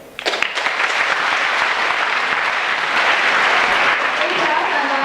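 Sustained audience applause after a student's anti-bullying presentation, rising sharply and holding at a loud, dense level throughout, with some voices mixed in.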